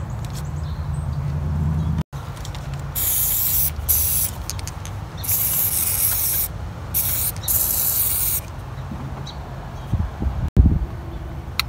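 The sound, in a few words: spraying lubricant onto a car engine part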